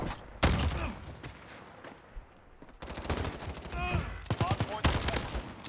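Rapid automatic gunfire from a Galil-style CR-56 AMAX rifle in Modern Warfare, loud close bursts of fast shots separated by brief pauses, with in-game sounds and a voice heard between bursts.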